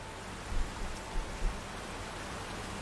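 Soft, steady rain falls at night in the Resident Evil video game, a faint, even hiss with a few low rumbling swells and no voices.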